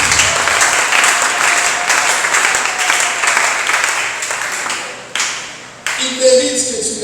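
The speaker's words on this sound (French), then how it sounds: "Acclame d'abord pour la gloire de Jésus" A congregation at a prayer service applauds for Jesus, dense sustained clapping from many hands that thins out toward the end, with voices mixed in.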